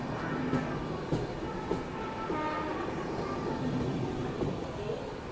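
A train runs through Bhopal Junction without stopping, a continuous loud rumble with rhythmic clatter of wheels over rail joints throughout.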